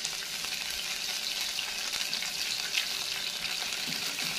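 Vinegar hitting fried garlic in a hot pan sets off a steady, bright sizzle that holds at an even level throughout, with no talking.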